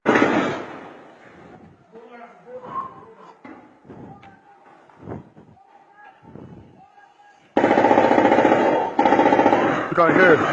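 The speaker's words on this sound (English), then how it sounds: "You can hear shots." Gunfire from the Nigerian army shooting at a home, with a loud crackling burst at the start and a sustained rapid volley near the end, separated by a stretch of people talking.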